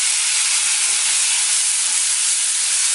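Tomatoes hitting a hot pan produce a loud, constant hissing sizzle that holds evenly throughout, close up and with no voices.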